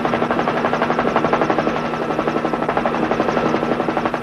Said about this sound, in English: Snowy, look, the helicopters are back.